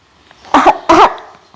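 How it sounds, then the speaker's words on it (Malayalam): A person coughs twice in quick succession, two short harsh bursts close to the listener with a brief gap between them and quiet on either side. "ചുമ വരുന്നേ"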